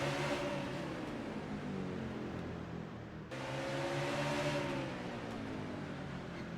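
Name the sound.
NASCAR race car engine at Martinsville in a racing video game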